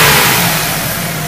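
A GM 3.8L 3800 Series II V6 engine runs steadily after intake manifold and valve cover gasket work, with a loud, close, continuous hum and no talking.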